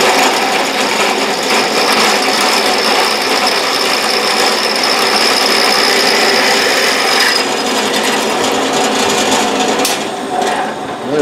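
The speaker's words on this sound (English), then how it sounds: "Running a little bit fast for that size drill bit" A loud, steady grinding whine of a drill press bit cutting through metal, continuous for several seconds before briefly easing off near the end.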